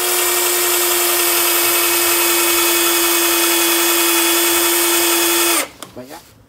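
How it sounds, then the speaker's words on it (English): A power drill bores a pilot hole through hard steel for a self-tapping screw, a loud steady whine running continuously for over five seconds before cutting off abruptly, followed by a few brief spinning-down sounds. "I'm just gonna drill a pilot hole so I can put this self-tapping screw in"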